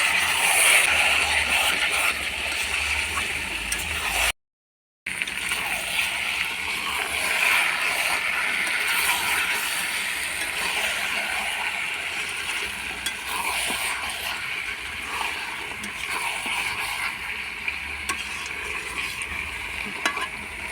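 Potato chunks frying in oil and spiced chicken for a Bengali chicken curry, stirred continuously: a steady close sizzle with scraping and stirring throughout, broken once by a moment of silence.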